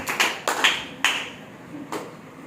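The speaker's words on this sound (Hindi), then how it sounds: "यीशु मसीह के लिए तालियां फिर।" A church congregation claps in a few short, separate bursts, with sharp slaps spaced out over a couple of seconds and a quiet gap before the last one.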